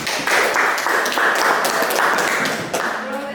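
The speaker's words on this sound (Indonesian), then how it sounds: "Berikan aplaus untuk kita semua" Applause from students in a classroom after group presentations: a short, dense burst of many hands clapping at once, loud and close, then tapering off near the end.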